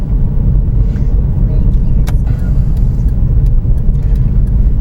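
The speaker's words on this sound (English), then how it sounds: "Right there, you can see that it starts to lug down on the engine." A manual car engine in fourth gear lugs down under braking, a steady loud low drone that fills the whole stretch inside the cabin, with occasional faint clicks and a voice talking over it.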